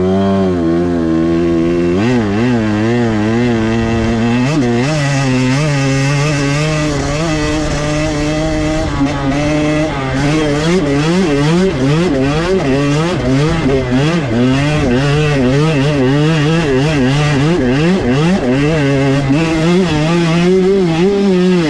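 Engine of a VeeMoto Force AT motorcycle running continuously and loud, with repeated revving that rises and falls in pitch throughout, heard alone without talk.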